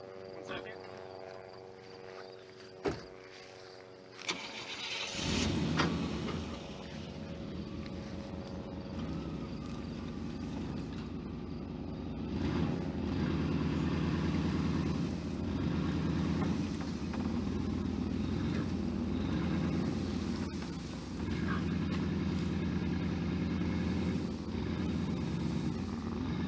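A pickup truck's engine runs and pulls forward with a rope over its ball hitch to tow a portable pig pen on a farm, a steady loud rumble rising after a couple of sharp knocks and continuing under occasional talk.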